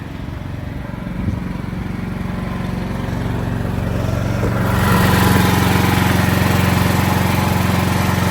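A standby generator engine hums steadily nearby during building emergency testing, then swells louder and fuller about halfway through as it takes on load, running on without pause.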